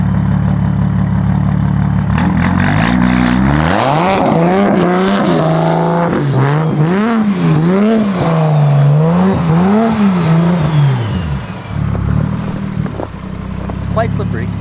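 A 900-horsepower BMW M4 in the snow starts and revs repeatedly, its engine note swinging up and down in loud, wavering pulses before settling toward idle, with voices talking underneath.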